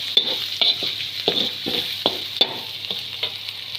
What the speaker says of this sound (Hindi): अब इसमें ग्रीन चिली डालेंगे। ग्रीन चिली को मैंने पीस लिया था।